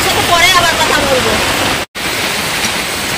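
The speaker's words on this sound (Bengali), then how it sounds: "দেখো অনেক বৃষ্টি ঝড় হচ্ছে" Heavy rain falls during a storm, a dense, loud, steady rush of noise that runs through the whole stretch with only a momentary cut.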